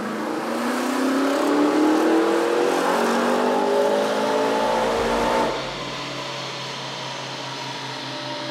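Tuned power SUV engine revving hard on a dynamometer, loud and close, its rising engine note climbing steadily before dropping off abruptly to a lower steady drone.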